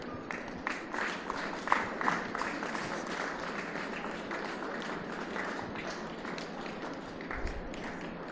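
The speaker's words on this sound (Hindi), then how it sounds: "प्लस थ्री बच्चे ताली बजाते रहेंगे" School children clap together in a continuous, fairly even patter, a crowd of small hands heard from a short distance with steady, light claps.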